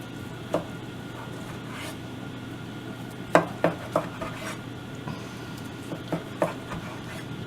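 A knife slices through bacon-wrapped sriracha chicken with cheddar on a cutting board, giving a handful of sharp taps and scrapes spread over several seconds against a low kitchen background.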